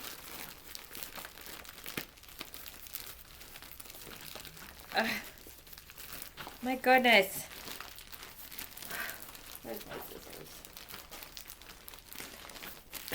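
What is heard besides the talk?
unwrapping a mailed package, crinkling wrapping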